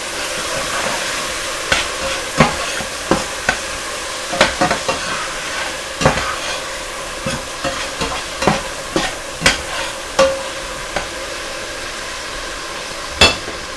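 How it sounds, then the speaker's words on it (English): Tomatoes and onions frying in a pan for a Somali spaghetti sauce, a constant sizzle punctuated by repeated sharp spoon scrapes and taps against the pan at an irregular pace. "Stir it up."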